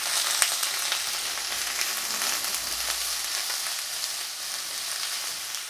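Vegetables stir-frying in a hot pan as the base for a sweet and sour sauce, giving a steady, even sizzle that carries on throughout with no voices.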